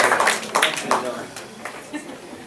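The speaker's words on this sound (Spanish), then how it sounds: "Un fuerte aplauso por favor para el señor" Scattered applause for a speaker at a public-management keynote conference, a few distinct claps that thin out quickly, with voices talking over them.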